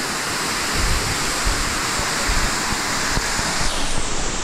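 A scenic waterfall in Saint Vincent roars with a steady, dense rush of falling water, loud and close, holding an even wash of noise for the whole stretch with no voices.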